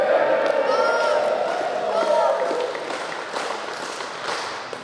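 A crowd at an awards assembly cheers and shouts for the name Thunderbirds, a loud burst of raised voices and whoops that slowly fades into scattered noise.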